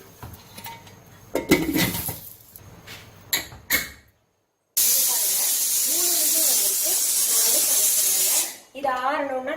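Pressure cooker on the stove cooking methi dal lets out a loud, steady hissing whistle of steam for several seconds, after some kitchen clatter; a voice speaks briefly afterward.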